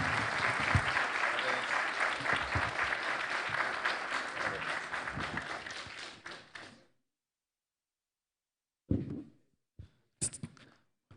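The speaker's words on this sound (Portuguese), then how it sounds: "podem bater palmas se quiserem" A conference audience applauds in a dense, steady burst that fades out after several seconds, followed by silence and a few scattered late claps.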